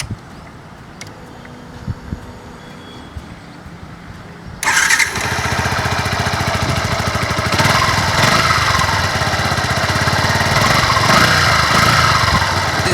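A Yamaha R15 V2 motorcycle engine starts after a quiet moment, then settles into a loud, steady idle with a smooth exhaust rumble.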